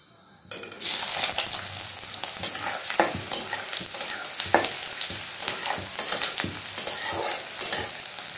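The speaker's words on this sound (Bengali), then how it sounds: "চলো পেঁয়াজটা দিয়ে দিয়েছি, ভাজা ভাজা হোক, একটু লাল লাল ভাব আসুক" Chopped onions drop into hot oil in a pan and sizzle loudly, with repeated scraping stirs over a steady frying hiss. The first half-second is quiet, then the sizzling starts abruptly and stays close and continuous.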